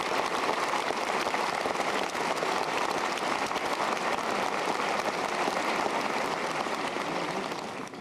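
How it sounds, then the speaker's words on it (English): Audience at a 1994 Auburn High School graduation ceremony applauding in a steady, dense roar of clapping that sustains throughout and tapers slightly at the very end, with no speech over it. "let's give them a round of applause"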